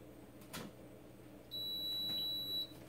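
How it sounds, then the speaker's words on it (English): Krups BW760D51 gooseneck electric kettle giving a single clear electronic beep on being plugged in, a steady tone lasting about a second over a quiet room hum. "Now, when you plug it in, you'll hear one beep."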